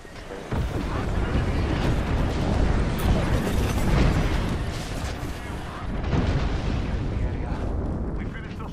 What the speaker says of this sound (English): Signaling an airstrike.